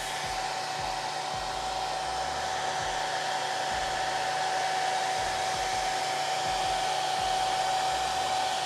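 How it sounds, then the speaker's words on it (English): A hair dryer blows steadily and loudly to dry aluminum-colored paint on a scale model, a constant close whooshing hum with faint low thumps underneath and no voices. "when I hair dry it, it doesn't blow it all around like a liquid"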